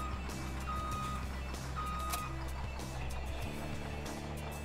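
Trailer in the video game Farming Simulator 17 backing up, its reversing alarm beeping in a regular repeating pattern over a loud, constant engine drone, with no talking.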